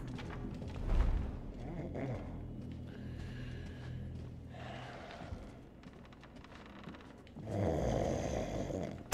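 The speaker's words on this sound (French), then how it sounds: "T'as l'autre, il ronfle" A character snores in the stealth video game Thief, slow drawn-out breaths rising and falling at a moderate distance, with soft game ambience and creaks between the snores.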